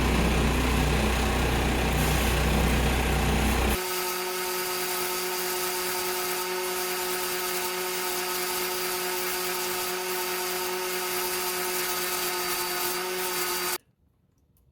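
A lapidary polishing machine runs steadily while polishing a yellow jasper gemstone, a loud humming whine that drops in tone a few seconds in, then cuts off abruptly near the end.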